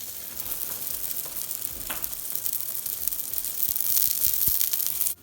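Naan dropped into a hot pan of avocado oil over medium heat sizzles steadily and close up, the hiss growing a little louder near the end before cutting off.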